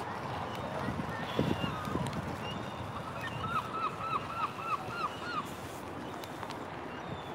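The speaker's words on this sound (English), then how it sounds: "There go the seagulls." Seagulls calling at the seaside on Blackpool promenade at sunset, a short run of repeated bright calls a little way off, heard over steady wind and crowd background noise.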